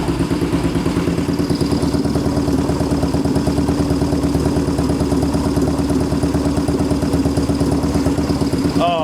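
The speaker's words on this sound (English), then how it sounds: "Oh man, that's idling sweet." A Yamaha XS650 motorcycle engine fitted with a fabricated stainless exhaust idles close by, a loud, steady, lumpy rhythmic putter that keeps going throughout with no talk over it.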